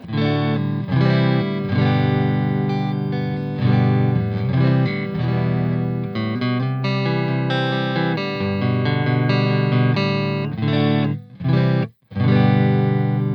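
Loud, heavily distorted electric guitar chords ring out continuously through an overdriven Katana amp with a big gain boost, with a brief break near the end before resuming.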